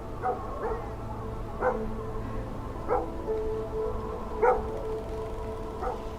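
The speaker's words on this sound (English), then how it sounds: "the occasional bark of a distant dog" Dog barking at a distance on a windy night by medieval city walls, about five separate muffled woofs spaced over a second apart above a soft steady background hush.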